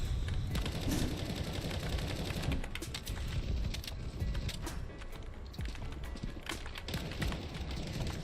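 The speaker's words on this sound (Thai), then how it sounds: "ยิงเองก็ยังโหดเหมือนเดิมนะ ถ้าใช้กับปืนกลนะ" Rapid automatic gunfire from a machine gun in the video game CS:GO, with dense continuous bursts and sharp repeated cracks layered over busy game noise throughout, loud and close.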